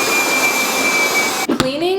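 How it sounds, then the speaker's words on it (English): A vacuum cleaner runs on a rug in an apartment, a loud steady whine with a high tone that cuts out abruptly near the end before a brief thump and the motor note resuming lower. "Next, I'm gonna vacuum this rug."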